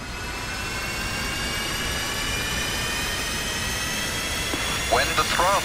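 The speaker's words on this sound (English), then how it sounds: "fuel is supplied to the engine and will reach idle RPM within 35 seconds" Jet engine in the DCS flight simulator spooling up toward idle RPM, a steady loud roar with layered high whining tones holding throughout, with a brief rising chirp near the end.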